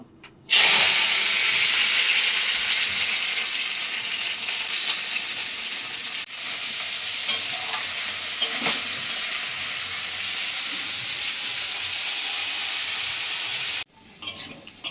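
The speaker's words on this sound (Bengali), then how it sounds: "আমি এবার করলাটা ভেজে নেব" Bitter gourd frying in hot oil in a pan, a loud, steady, close sizzle with bright hissing that runs almost continuously before stopping abruptly near the end.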